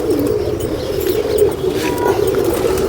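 A pigeon coos in a low, steady, continuous burble while a handler holds it close, with faint rustling and scattered chirps around it.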